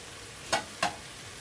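Two quick scraping stirs of vegetables with ground ginger in a hot pan for shrimp lo mein, each a short sizzling swish, close and fairly quiet, with a faint steady background in between.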